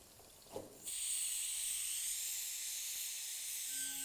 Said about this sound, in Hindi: धीरे धीरे प्याज भुनेगा